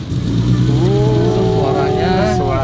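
Classic DTM-era touring car engine, a BMW E30 Hartge or Mercedes-Benz 190E AMG, catches and settles into a loud, steady low rumble, with rising harmonic sweeps as it revs briefly, heard from inside the cabin under some voice.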